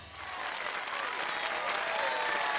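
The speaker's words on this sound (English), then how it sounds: "Once more, please give a big round of applause for our talented participants." A crowd in the video game Fire Emblem Three Houses applauds after a contest winner is announced, sustained dense clapping that swells slightly and stays loud and even throughout.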